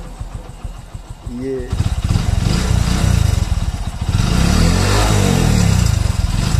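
A nearby Hero motorcycle engine cranks and catches, then settles into a loud idle with a couple of revs; someone speaks briefly beforehand.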